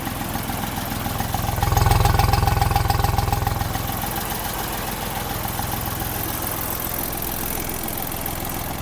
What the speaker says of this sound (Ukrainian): Двигун запускається з пів оберта і демонструю звук роботи двигуна, щоб ви почули.